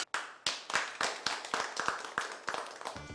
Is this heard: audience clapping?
yes